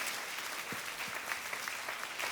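A church congregation applauds together during a worship celebration, a continuous crackle of many hands clapping at steady strength, some nearer claps standing out, with no speech over it.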